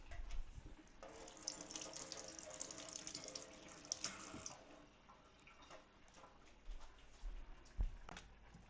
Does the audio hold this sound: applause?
no